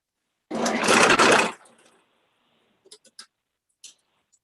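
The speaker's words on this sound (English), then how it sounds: "This lathe is just not heavy duty enough for this." A light-duty woodturning lathe spinning a workpiece roars loudly for about a second, then shuts off, followed by a few faint scattered clicks and knocks in a quiet shop.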